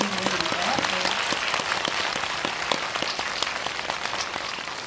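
Steady, dense applause from a cinema audience at a film talk event fills the space, continuous and fairly loud throughout.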